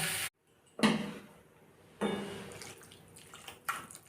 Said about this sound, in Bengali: যখন মশলাটা ভাজতে ভাজতে সুন্দর একটা গন্ধ বেরোচ্ছে তখন এর মধ্যে জল দিয়ে দেবো